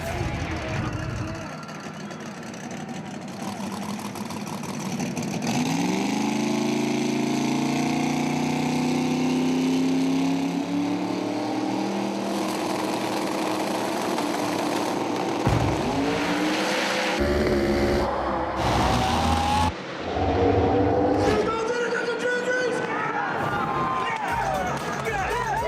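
A turbocharged no-prep drag car builds boost and races, a loud sustained engine roar that rises in pitch and surges as it accelerates, with crowd noise and a commentator's voice layered over it.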